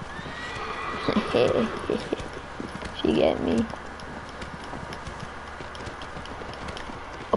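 Horse hooves clip-clop in a steady rhythm with a couple of whinnies over them in the video game Shadow of the Colossus, while a person speaks briefly nearby.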